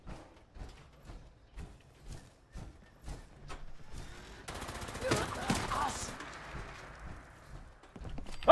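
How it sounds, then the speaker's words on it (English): A Gatling laser firing in the video game Fallout 76: a dense, crackling burst of rapid energy shots for a couple of seconds, following a run of steady rhythmic thumps. "I say we go use out our new Gatling laser"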